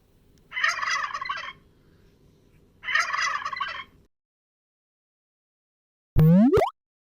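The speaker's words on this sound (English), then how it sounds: "Turkey." A turkey gobbles twice in two loud rapid warbling bursts over a low steady background hum, then a short pop-like sound effect follows after a silence.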